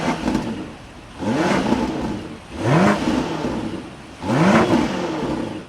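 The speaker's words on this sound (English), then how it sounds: "Take a listen to that V8." A 2026 BMW X5 M60i V8 revs repeatedly from idle in three rising, swelling bursts, each settling back to a steady burble, loud and close with no talking.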